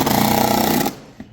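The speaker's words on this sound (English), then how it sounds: "if you've got a drill with a driver bit, that's the easiest way to do it" A drill fitted with a driver bit runs loud and steady, driving longer screws into a metal bracket for a lifting lock mechanism, then cuts off abruptly near the end with a brief click.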